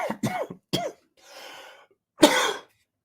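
A few sharp, close coughs come in a quick cluster, followed by a breathy exhale and one more forceful cough.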